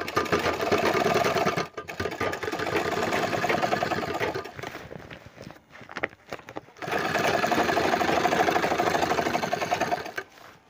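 A sewing machine stitches a bag made from a fertilizer sack. It runs in loud bursts broken by brief stops, then starts again for a long final run.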